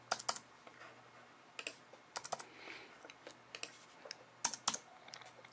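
Someone types code on a computer keyboard for an iPhone scroll view tutorial, giving close, crisp key clicks in irregular quick bursts with short pauses between them, and no talking.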